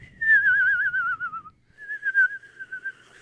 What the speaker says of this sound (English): Do you ever try whistling while you're laughing?